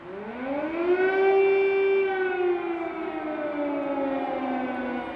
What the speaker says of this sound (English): where is the nearest shelter when those sirens are going to go off again